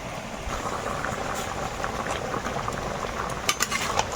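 Banana and potato curry with fried fish, simmering in water in a pot in a Sundarban home kitchen, bubbles with a steady, close, hissing burble. A few soft clinks come near the end, and no one speaks.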